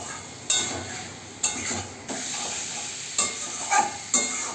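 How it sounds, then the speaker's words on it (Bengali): Fried fish, potato and pointed gourd are sautéed with spices in a pan under a soft sizzle, broken by several sharp scrapes and clacks of a spatula stirring at uneven intervals. "মাছ ভাজা আর আলু পটল ভাজাটাকে এর মধ্যে দিয়ে একসঙ্গে কষিয়ে নেব"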